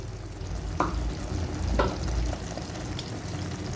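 A spoon scrapes and stirs through a thick ridge gourd curry in a pan, a few distinct scraping strokes over a low steady cooking hiss, close by.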